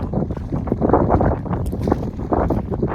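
Wind gusting outdoors, a steady rough rush of buffeting blowing across the microphone for the whole stretch, loud and close, with no talking.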